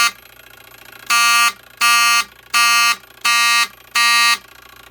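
Vintage Autocall coded fire alarm horns blare in five evenly spaced blasts, each about half a second long, harsh, buzzing and very loud indoors, with a low hum between pulses and no voices.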